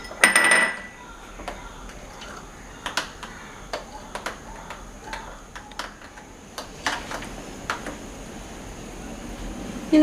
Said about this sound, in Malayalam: കുറച്ച് പൊടിയിട്ട് വേണം നമ്മളിത് മിക്സ് ചെയ്യാൻ.